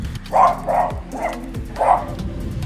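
A few dogs barking near a house, four sharp barks in quick succession over a short stretch, fairly loud and close.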